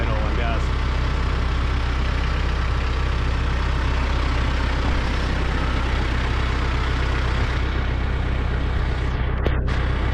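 A tractor engine runs steadily on a farm during pole barn post setting, a loud, constant low rumble filling the whole stretch with no breaks.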